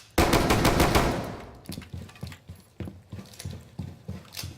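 Hip-fired gun in Rainbow Six Siege, a loud opening burst of rapid shots that decays, then a string of single sharp shots in a quick, uneven rhythm, close and clear with no talking.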